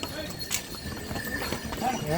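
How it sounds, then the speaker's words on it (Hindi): Horses walking on a long pilgrimage trail in India, some carrying riders, their hooves clip-clopping in an irregular patter under steady background crowd noise and someone talking. "कुछ घोड़े खाली आ रहे हैं तो कुछ घोड़े सवारी लेकर आ रहे हैं।"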